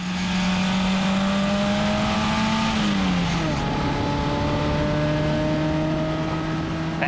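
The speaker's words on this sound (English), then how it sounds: "I took the truck for a short drive, and I can probably show you the footage." A truck with a hot header, running lean at 15-16 AFR, drives at a Susquehanna rallyx mudfest event, its steady engine drone dipping in pitch midway and then holding, loud and close with no talk.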